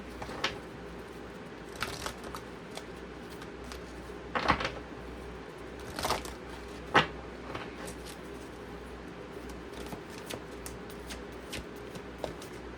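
A Sacred Oracle deck of cards is shuffled by hand indoors, soft riffling and rustling punctuated by several sharper snaps and taps of the cards, moderately quiet with no talking.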